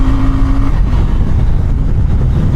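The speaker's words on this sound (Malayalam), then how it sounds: "കുറച്ചൊന്ന് ഹീറ്റഡ് അപ്പ് ആയപ്പോഴേക്ക് ചെറിയൊരു പോപ്സ് ഒക്കെ കേൾക്കാം ഫ്രം എ സ്റ്റോക്ക് എക്സോസ്റ്റ്" Royal Enfield Bear 650 motorcycle on its stock exhaust, engine revving loud and close with a throaty, rising drone and rough crackle, no voices over it.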